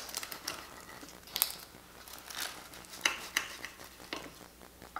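A knife cuts into a baked phyllo spiral filled with spinach and cheese, with soft crackling and crinkling of flaky pastry and a few sharper clicks, close and quiet, with no talking.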